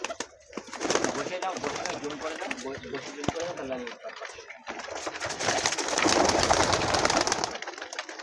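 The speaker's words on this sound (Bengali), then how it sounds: "পায়রাগুলো দেখুন আপনারা" Teddy pigeons cooing nearby in a loft, a run of soft, repeated throaty coos with occasional wing flutters, while a person talks over them.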